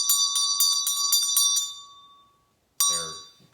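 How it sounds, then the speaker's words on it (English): Large ritual hand bell shaken rapidly: a bright, rapid run of about eight metallic strikes over a sustained ringing tone that fades into silence, then one more sharp ring decaying at the end, with no voices. "When you use these bells, typically you use them in the left hand and you ring them just like crazy."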